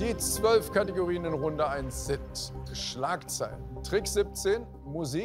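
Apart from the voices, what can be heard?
None of the usual background noises is heard.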